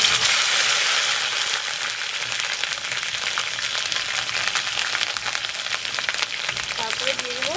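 Onion paste hits a hot wok for a fish curry, giving a loud, dense, continuous sizzle that stays steady throughout, with a faint scrape near the end and no talking.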